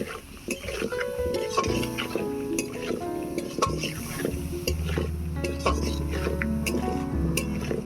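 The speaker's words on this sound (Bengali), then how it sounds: "অল্প একটু জল দিয়ে দিচ্ছি এবারে আলুটাকে কষিয়ে নেব" Potatoes are stirred and sautéed in a pan with a little water for an eggplant, potato and tomato fish curry. Spatula scrapes and a soft sizzle run steadily close by, with faint background sound underneath.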